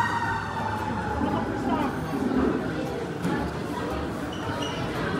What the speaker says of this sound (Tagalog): sobrang lakas talaga ng ambulansya ng tunog dito sa Pilipinas